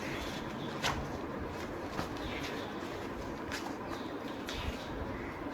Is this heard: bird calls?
yes